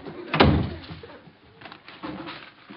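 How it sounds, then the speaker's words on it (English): A door shuts indoors with one solid thud early on, followed by faint room noise and light shuffling. "Would you close the door?"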